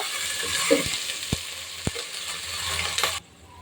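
Steady frying sizzle of ginger and garlic paste hitting browned onions in a pan for masoor dal khichuri, close and continuous, with a few sharp spoon taps against the pan before the hiss cuts off near the end.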